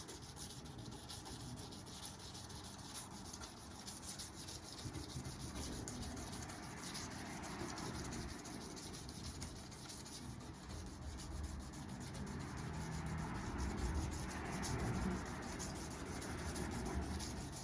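Fine 600 grit sandpaper rubs in a long run of quiet, steady, close strokes, a soft continuous scratching hiss with no voices.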